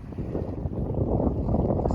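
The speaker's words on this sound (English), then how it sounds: "a little bit windy." Gusty wind buffets the microphone on Lake Crescent during a kayak paddle, a steady low roar with rumbling swells and no voices.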